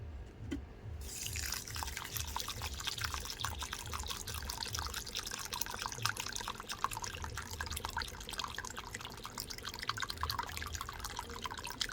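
Plain water running steadily into a bowl of Gobindobhog rice and mung dal set to soak, a close continuous splashing trickle after a few soft low knocks at the start.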